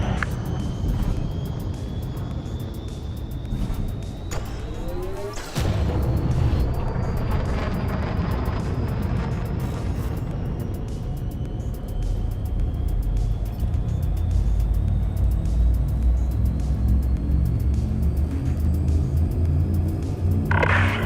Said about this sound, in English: Ship restraints disengaged. Commence departure.